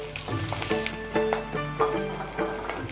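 Onion pieces frying in a pan along with garlic and green chilli, a steady sizzle with rhythmic stirring scrapes throughout, close and moderately loud, with a faint tonal hum underneath and no speech.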